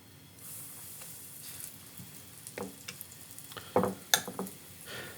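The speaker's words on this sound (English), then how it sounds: "we really just want to fry them lightly" A soft, steady sizzle of chicken cutlets lightly frying in a pan, with a few sharper crackles and pops and faint clinks near the end.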